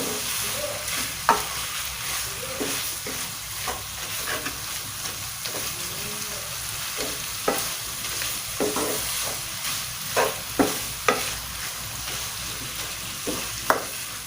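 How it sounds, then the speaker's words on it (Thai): Thai curry paste and pork stir-fried in a pan for an old-style curry with noni leaves: steady close sizzling and frying hiss throughout, with repeated scraping and clacking strokes of a utensil against the pan, no talking. "เราก็ คั่วเครื่องแกงมา กับหมูนะคะ"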